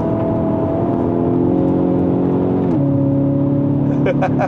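Kia Optima GT with 242 hp engine in Sport mode, revving with a droning tone that steps as it downshifts, loud from inside the cabin, with someone talking over it.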